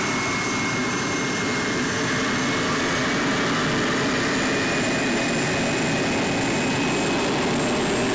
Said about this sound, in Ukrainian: Також через те, що на Т-80 встановлено газотурбінний двигун,